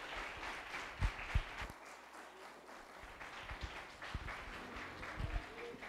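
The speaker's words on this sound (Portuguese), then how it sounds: "aplauda ao Senhor" A church congregation applauds during a family and missions worship service, a broad wash of clapping with a few louder, closer hand claps standing out as it continues.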